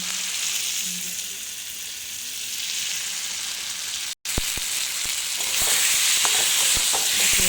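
Boiled potatoes go into a pan and fry with a loud, steady sizzle that briefly cuts out and then returns with crackling spatters and utensil knocks.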